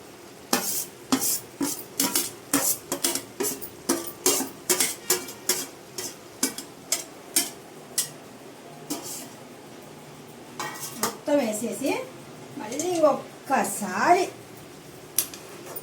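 Cauliflower curry with tomatoes being stirred in a pan, a run of rapid spoon clacks and scrapes against the metal, then slower stirring as a voice speaks over it.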